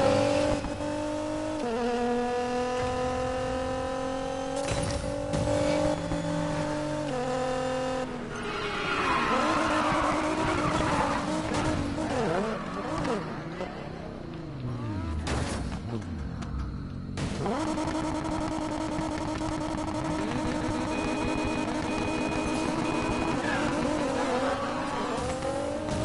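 Racing hatchback car in Need for Speed Payback, its engine revving and shifting through gears with tire skids and squeals in the middle stretch, loud and continuous throughout.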